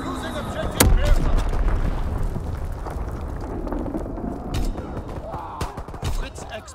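Mortar rounds firing and impacting in Call of Duty: WWII, a loud sharp report followed by rumbling booms and scattered gunfire across a noisy battlefield, with voice callouts mixed in.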